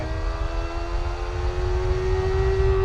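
A Kawasaki ZX-25R motorcycle revs while being ridden on a public road, its high-pitched engine whine climbing steadily in pitch over wind rumble, close and loud and heard alone.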